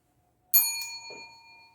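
A bell chime plays as a notification sound effect, with a bright struck tone followed by a second softer hit and a long ringing decay, alone and fairly loud after a short silence.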